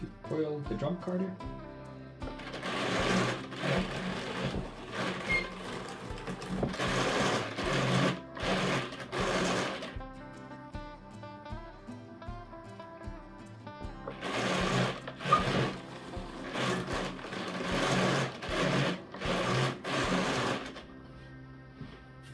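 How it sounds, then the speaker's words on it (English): A squeaky drum carder that needs oiling cards scoured wool fleece, making close, fairly loud rhythmic whirring and rattling in two long runs separated by a short pause. "as you can hear, I think I'm gonna have to oil the drum carder."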